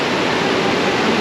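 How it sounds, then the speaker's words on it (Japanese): Rough white-water rapids of the Niagara River roar in a continuous, loud broadband rush, heard up close from the riverbank with no voices. "波がすごくて白波みたいになっちゃってます"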